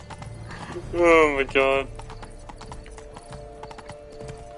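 Unicorn in The Witcher 3 Blood and Wine game letting out a loud neigh over hoofbeats of galloping, with a steady drone of game ambience and a person exclaiming briefly.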